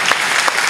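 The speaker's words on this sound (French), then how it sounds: "je voudrais qu'on applaudisse le personnel de l'hôpital" Loud, dense applause from an audience honoring hospital staff, a steady close wash of many hands clapping without pause.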